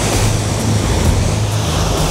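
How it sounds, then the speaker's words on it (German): Boat wake and spray churning on a lake near Lemmer in Friesland, a steady close wash of water with wind buffeting the microphone throughout, no talk. "Schon Wahnsinn, was das Boot so an Wasser verdrängt."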